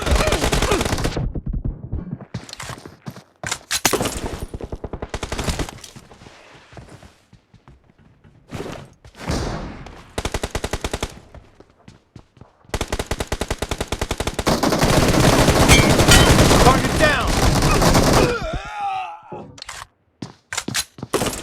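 Video game gunfire with 9mm weapons: dense bursts of rapid automatic shots and single cracks, loud and close, separated by brief pauses, with a long sustained burst in the middle.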